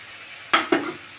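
Two quick scraping clinks of a utensil in a pan while stirring fried chicken with soy sauce, close and distinct over a faint background sizzle.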